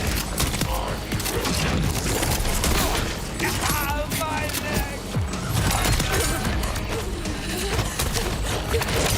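Gunfire aimed at crystals during a Borderlands 4 rift fight, dense rattling bursts and mechanical clatter packed tightly together, loud and continuous, with a voice talking underneath.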